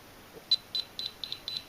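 GP Pointer metal detector sensing a silver sixpence, giving a series of sharp, high electronic beeps spaced about a quarter second apart, close and clear over a quiet background.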